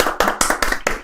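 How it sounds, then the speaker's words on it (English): Audience clapping in an even, brisk rhythm of about five sharp claps in a second. The claps sound close and loud. "Applause for the old man."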